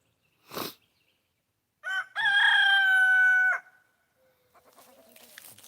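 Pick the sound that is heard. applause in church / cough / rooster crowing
rooster crowing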